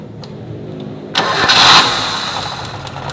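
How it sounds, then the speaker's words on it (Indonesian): A car engine cranks and catches partway through, with a sharp burst settling into a steady mid-pitched idle, heard up close while the spark plug cables and ignition are being tested. "kita hidupkan mesin teman-teman ya"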